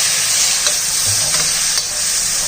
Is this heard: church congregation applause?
no